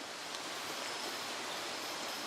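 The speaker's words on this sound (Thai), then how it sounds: "ฝนมาแล้ว" Night rain pours down steadily in a mountain forest, a broad unbroken wash of noise that stays at an even level throughout, with no one speaking.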